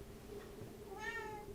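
A pet cat meows once nearby, a clear rising and falling call lasting about half a second, faint against a steady low hum.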